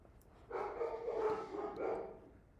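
Dogs bark and yelp in a home, a short cluster of fairly close, tonal barks lasting under two seconds before fading into quiet room noise.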